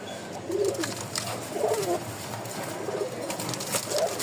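Pigeons, a newly paired male and female kept for breeding, coo in repeated low bursts at close range, with a steady room hiss behind them and no talking.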